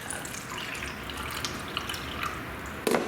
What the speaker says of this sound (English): we are going to be pouring 100 milliliters into our measuring cup